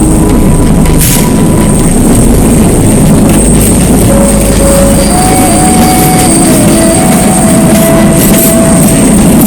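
A train on the Kalka-Shimla railway in India rumbles loudly and continuously, with a thick low roar and thin squealing tones drifting over it near the end.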